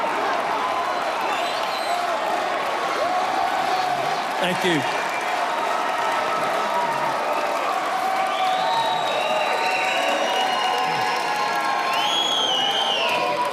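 An enthusiastic crowd at a political rally in Minnesota keeps up steady applause and cheering, with whoops and a brief spoken thanks riding over the dense, continuous clapping.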